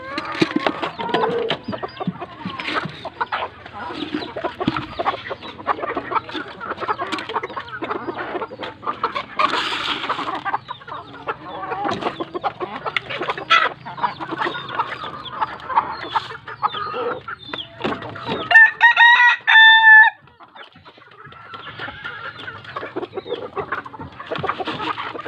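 Chickens clucking and cackling in a farmyard, a busy continuous chatter of several birds close by, with a rooster crowing clearly near the end.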